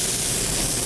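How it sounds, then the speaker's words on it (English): Onions searing in a hot pan in a restaurant kitchen, a steady, loud, bright sizzle and hiss that holds evenly for under a second with no talk. "Add these onions here and let that sear."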